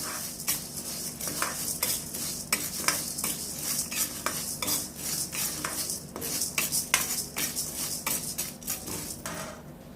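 Chana dal roasting in a pan crackles and hisses under constant stirring, the spoon scraping and clinking against the metal in quick irregular strokes throughout, close and fairly loud with no talking.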